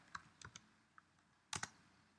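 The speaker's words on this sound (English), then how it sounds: "I'm just going to save myself some time and type in the command" Quiet clicks of keys on a computer keyboard as a command is typed, a few scattered keystrokes followed by a quick cluster near the end, faint and close.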